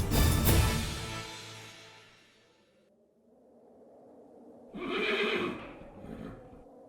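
A horse neighs loudly and close in a Mughal-era TV drama: a long whinny at the start that fades away, then a second, shorter neigh after a quiet pause, with no talk.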